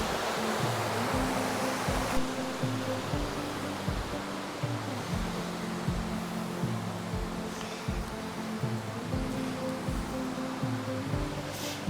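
A waterfall in the Bellangry area pours steadily in a constant broadband rush of falling water, close and loud, with low rumbling surges and no talking.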